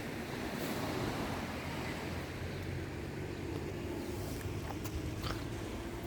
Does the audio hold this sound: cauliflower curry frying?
no